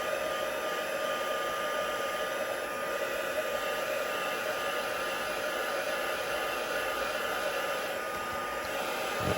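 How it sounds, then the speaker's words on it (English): Heat tool drying card for card making, a steady close whirring blower hum with a high whine, unbroken and even for the whole stretch. "So I'm just going to dry that quickly with my heat tool."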